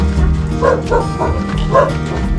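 A dog in a narrow alley gives several close, loud barks and yips in an uneven rhythm over steady background noise.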